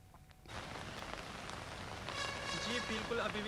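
Steady rain falls continuously during flooding in Jammu and Kashmir, a dense hiss that swells louder partway through with faint tonal sounds drifting in behind it.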